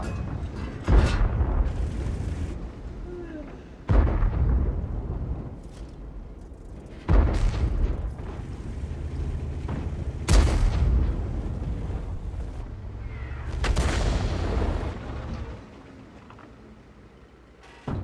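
Tortoise tier 9 British tank destroyer firing its main gun in World of Tanks: about five heavy, booming shots spaced a few seconds apart, each cutting sharply through a steady rumbling engine bed, with no talk.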